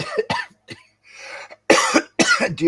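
Several harsh coughs in quick bursts, close and loud, separated by short pauses and a softer breathy stretch.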